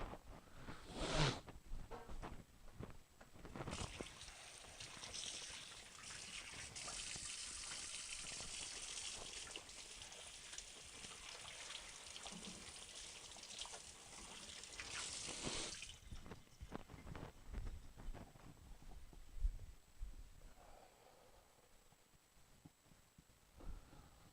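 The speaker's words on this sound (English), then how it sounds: "I'm gonna wash my hands halfway before we can start." Tap water running for hand washing, a steady close splashing flow lasting about ten seconds amid rubbing and handling noises before and after.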